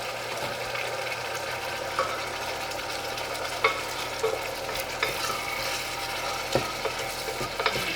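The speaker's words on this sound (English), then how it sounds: "I'm just going to add the pasta into the pot." Pasta being tossed in a pot of finished sauce, a steady close sizzle with soft stirring scrapes and occasional clinks.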